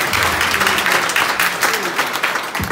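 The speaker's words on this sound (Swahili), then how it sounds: "Patia Bwana makofi mazuri." A church congregation claps steadily for a few seconds, dense continuous applause filling the room with little else heard.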